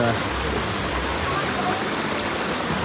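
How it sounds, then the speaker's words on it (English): Steady rushing water from a waterfall flowing down through Wildwood Grove at Dollywood theme park, a continuous broadband wash filling the scene at moderate level without pauses. "the waterfall in the back continuing down through here"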